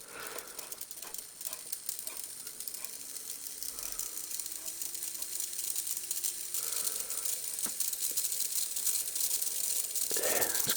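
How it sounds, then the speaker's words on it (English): A cheap small geared electric motor from eBay runs with a faint, steady whirring hiss and rattle, its pitch drifting slightly, with a few light clicks and a brief scrape near the end. "It's a rather noisy little motor."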